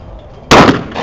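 A single loud, sharp gunshot cracks out close by at an outdoor birthday shootout, following a quiet lull and trailing into a brief echoing tail.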